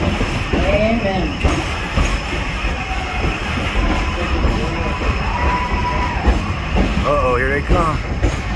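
Virginia & Truckee Railroad No. 29, a former Louisiana and Pacific locomotive, hauls its train through a narrow, cool, dark tunnel with a steady loud rumble and occasional high wheel squeals echoing off the close walls.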